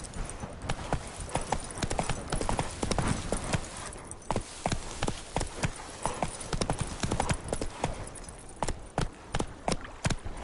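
Roach the horse galloping in The Witcher 3, rapid steady clip-clop of hooves close and loud throughout, with brief urging voice in the background.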